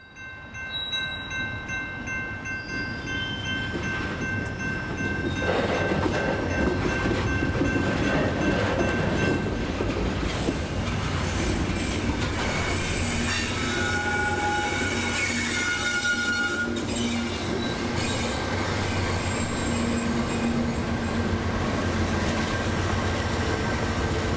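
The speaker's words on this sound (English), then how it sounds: "As conductor Mike Anderson watches the shove, a few pedestrians would think it a perfect time to cross the tracks" A freight train shoves railcars along industrial street tracks in Ybor City, a long steady rumble with clanking wheels, high squeals and tonal horn or bell notes running throughout, loud and close, with no talking.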